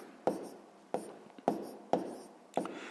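Pen or pencil writing on paper in five short bursts of scratchy strokes, each starting sharply and tapering off, close and clear with no talk.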